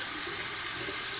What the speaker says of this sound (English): I'm going to do my two final rinses. One warm, one cold.